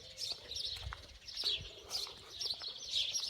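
Birds chirp and tweet repeatedly in short bursts outdoors, with low soft cooing and faint background noise between calls.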